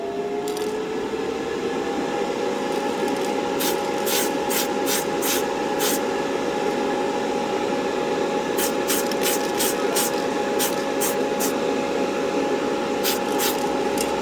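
Short bursts of aerosol spray paint laying a light coat on an AMT 1968 Corvair model car, hissing in clusters of quick puffs over a steady background hum.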